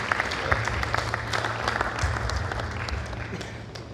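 An audience claps steadily, a dense wash of applause that holds for several seconds and slowly fades a little at the end.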